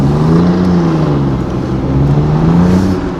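Alfa Romeo Giulia Quadrifoglio (2017) engine running indoors with steady throttle blips, a loud, close, continuous rumble with wavering low harmonics as the revs rise and fall slightly, no voices.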